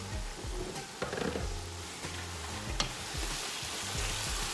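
Eggs sizzle and fry in a pot of peppered beef stew, a steady close crackling hiss with a few faint stirring knocks, and no voices.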